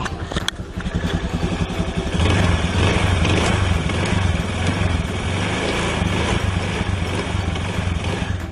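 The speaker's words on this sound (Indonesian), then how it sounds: "Oke, dengerin area CVT-nya dulu." A carbureted Honda Beat scooter runs with its CVT drive turning, giving a steady, close mechanical drone with a faint rattle and no talking.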